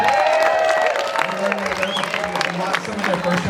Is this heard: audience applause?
yes